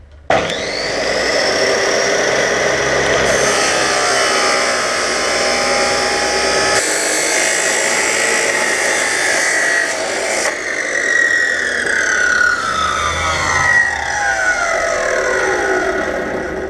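Metal pieces for a sliding gate being cut, producing a loud, continuous high-pitched grinding whine that shifts in pitch as the blade bites, steady and close with no talking throughout.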